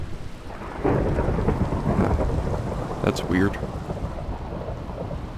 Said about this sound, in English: I've never heard thunder just cut off like that